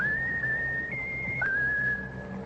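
A bird, named Raffles, whistles a bright sustained tune on an old-time radio comedy show, a long steady pitched note shifting up and then down, clear and close over a low studio hum.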